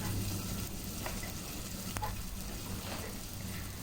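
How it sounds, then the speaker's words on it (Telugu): Chopped onions, garlic and ginger frying in a pan for a pigeon fry, a soft continuous sizzle with a few faint clicks of stirring, fairly quiet and steady. "వీటిని దోరగా వేయించాలి."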